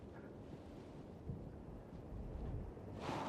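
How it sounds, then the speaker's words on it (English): Wind rushes across the Gordon Dam in Tasmania, a steady, faint low roar that grows slightly stronger toward the end, with no voices over it. "The wind."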